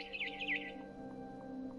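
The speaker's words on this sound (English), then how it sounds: "It was a barn swallow going back to her nest." A barn swallow in a video game chirps a few quick high tweets, then falls quiet over a low steady hum.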